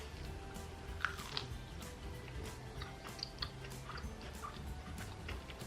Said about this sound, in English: The crunch on this nugget, look at that.